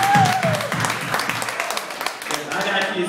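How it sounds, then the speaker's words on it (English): Audience clapping at a stand-up comedy show, a burst of scattered hand claps from the crowd with a voice talking over it and cheering mixed in. "clap if you got kids"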